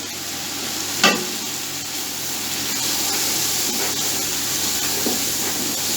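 Red chili and chicken powder being stirred into black gram pulao frying in a pan: a steady sizzle with a sharp scrape of the spoon early on and softer stirring knocks later, close up, with no talking.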